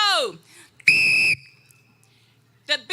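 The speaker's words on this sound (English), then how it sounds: "When you hear the whistle blow" A sharp, loud whistle blast blown at an outdoor community park event, one steady shrill note lasting about half a second and ringing briefly after, with bits of shouting voices just before and after.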